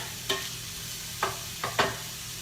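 Onions cooking in a pan are given a stir: a low steady sizzle with four distinct scraping strokes of a utensil, close and clear, no talking.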